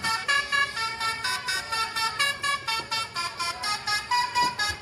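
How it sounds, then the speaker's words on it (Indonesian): A yellow toy telolet bus plays its horn tune, a rapid series of about fifteen bright, musical toots in a pulsing rhythm, close and fairly loud with no talk. "Wow, lihat teman-teman, ternyata ini ada bus telolet."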